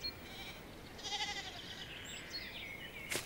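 A sheep bleats in a fruit orchard, one drawn-out faint call from a moderate distance over a soft outdoor background, with a brief sharp sound near the end.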